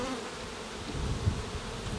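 A dense, steady hum of many honeybees buzzing together inside an alpine-style hive, close and continuous, with no voices.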